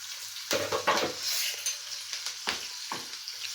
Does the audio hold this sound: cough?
no